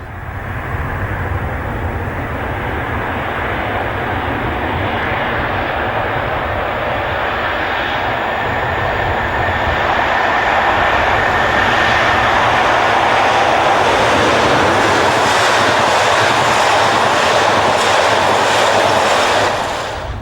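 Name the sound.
diesel locomotive train passing, class 47 47355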